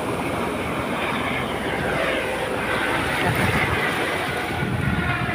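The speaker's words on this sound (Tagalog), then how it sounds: "Ay, ang baba ng helicopter oh." A helicopter flies low over the sea, a steady, broadband roar mixed with wind buffeting the microphone, with no talking.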